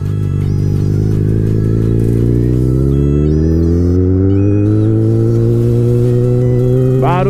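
A Yamaha XJ6 motorcycle engine revs up loud and close, its pitch climbing steadily in a long smooth rise and holding high before a brief sharp flare at the end.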